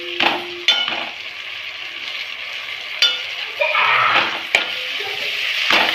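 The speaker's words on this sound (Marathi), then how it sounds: "त्यात आपण 1 मिनिट परतवून घेऊया।" Chopped onion and ginger-garlic paste sauté in a hot pan for a clams biryani, giving a steady sizzle with scraping stirs and light clinks of a utensil against the pan throughout.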